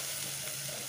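Spice powders, garam masala, turmeric and amchur, are stirred in a hot frying pan, giving a steady close sizzle with a faint scraping undertone.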